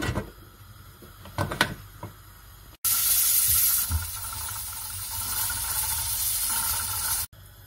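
A pressure cooker cooking lamb curry, releasing a loud sustained hiss of steam for several seconds after some clicks and clatter, then cutting off abruptly.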